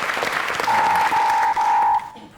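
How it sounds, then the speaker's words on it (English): Studio audience applause sweeps through a television comedy panel show, a dense steady roar that a sustained electronic buzzer tone cuts across midway before the clapping thins out. "I think a round of applause for Jade, the most popular Big Brother contestant ever."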